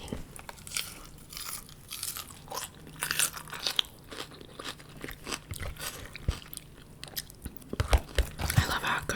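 Someone eats a Caesar salad up close, with loud, irregular crunching and chewing bites of crisp lettuce and croutons, along with soft mouth sounds and faint whispering.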